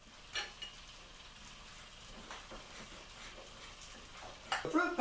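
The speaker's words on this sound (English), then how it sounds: "Frying pan is getting about right." Batter sizzling faintly in a frying pan while pancakes cook for breakfast, a soft steady hiss with a few small clinks and scrapes, louder utensil clatter near the end.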